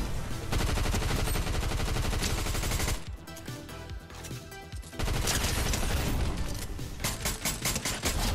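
Rapid gunfire from a Fortnite match rattles loud and dense for several seconds, drops out briefly, then resumes in sustained bursts of shots, with no talking over it.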